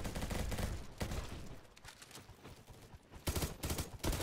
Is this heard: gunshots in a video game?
yes